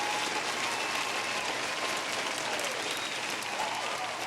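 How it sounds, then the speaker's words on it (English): Canned round-of-applause sound effect played during a podcast, a dense, even wash of many clapping hands with a few cheers mixed in, steady throughout and moderately quiet. "Let's pop in the round of applause."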